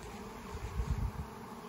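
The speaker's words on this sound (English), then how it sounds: "That little five frame nuke's gonna be slam when all these bees get in there." A honeybee swarm moves into an empty five-frame nuc box, a dense, continuous buzz of many bees close by that swells slightly in the middle.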